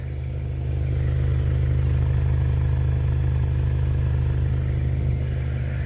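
A 2022 Subaru Legacy with 57,000 miles idles close by, its single-side exhaust giving a steady, smooth low hum with no revving, after a brief quieter start.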